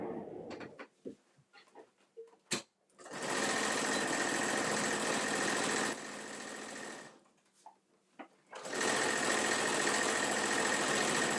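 A sewing machine stitches the bottom seam of a full-size top-handle tote bag in two long, steady runs separated by a short pause, loud and close after a few brief handling noises.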